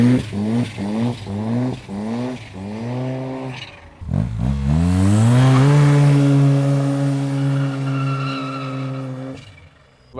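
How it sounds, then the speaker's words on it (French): A tuned Nissan GT-R engine at a car meet in Marseille, a series of rising rev blips followed by a long, loud, strained acceleration that holds a high pitch before dropping away, close by. "On voit clairement qu'il y a une GTR qui s'est mise en route."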